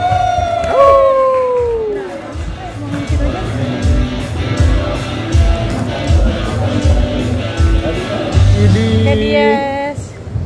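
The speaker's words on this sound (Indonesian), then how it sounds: "Tepuk tangan yang paling meriah untuk Podcast Ancur, Randika Jamil, Patra Gu" An audience at a podcast competition press conference cheers and whoops loudly, with scattered clapping. A host's amplified voice and music run underneath and over the crowd noise.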